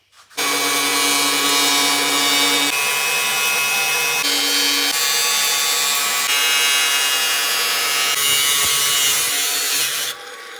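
A power saw cuts continuously through a contractor truck cap, loud and close with a high whining buzz, pausing briefly before carrying on to the end.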